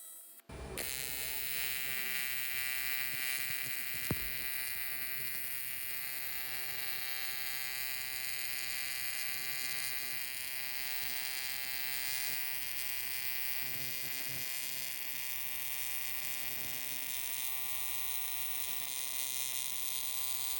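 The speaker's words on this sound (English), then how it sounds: "Now we just gotta weld that one up there." TIG welding on an aluminum handrail at a fixture table, a continuous high buzzing hum with a faint crackle that holds steady for about twenty seconds after a brief start, moderately quiet and without talk.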